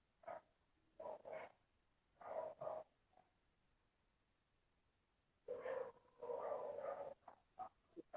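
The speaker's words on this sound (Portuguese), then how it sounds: "cachorros ao fundo, vocês vão ouvir" Several dogs bark faintly in the background in short, irregular bursts, some in quick pairs, with quiet gaps between them.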